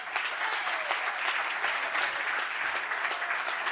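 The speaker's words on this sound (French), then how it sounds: "je vous prie de faire un tonnerre d'applaudissements pour Sébastien qui va venir nous présenter." Sustained applause from a large conference audience, dense and even, clapping continuously throughout without pause.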